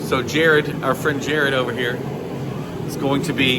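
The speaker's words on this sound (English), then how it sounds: "sorry for the noise. We've got a heater going." A heater runs in a garage where a Honda Fit is being vinyl wrapped, giving a steady airy hum under a man's speech throughout.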